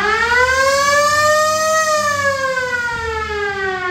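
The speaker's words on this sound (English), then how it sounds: "Still got the original siren on it." The original siren on a 1964 W200 Air Force crew cab truck wails loudly and close by, one rising and slowly falling tone carried over a low engine rumble.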